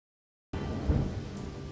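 Rain and thunder in the video game Lost Horizon start abruptly after a moment of silence, with a steady rain hiss and a low rumble swelling briefly beneath it, loud and close.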